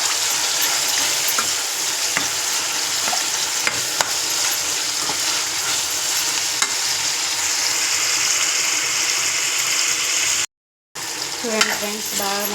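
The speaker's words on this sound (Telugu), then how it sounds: "ఇది బాగా మగ్గాలి టమాటా." Tomatoes cooking down in a pan with turmeric and salt, giving a steady, moderate sizzle and bubbling with occasional stirring scrapes, broken by a brief silence near the end.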